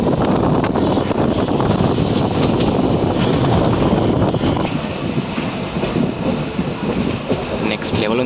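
A Nandyal–Kurnool DEMU train runs toward Krishnamma Kona station with a continuous loud rumble and rattle, heavy wind buffeting throughout.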